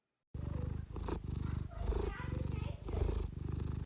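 A cat purrs loudly and close up in steady rhythmic bursts, each inhale and exhale cycle clearly separated, running continuously for several seconds.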